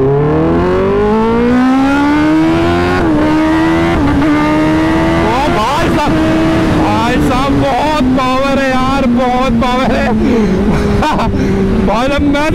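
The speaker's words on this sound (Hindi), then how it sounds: "अब देखते हैं स्टार्ट करते हैं इस बाइक को" A Kawasaki ZX-10R superbike engine revs hard with launch control engaged on a rough road, a loud, sustained rising and falling roar with rapid throttle blips toward the end; someone talks over it.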